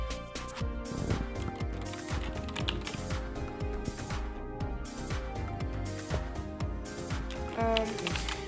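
Fast, continuous typing on a mechanical keyboard with Gateron Yellow switches, dense overlapping key clacks close up with a steady rhythm throughout.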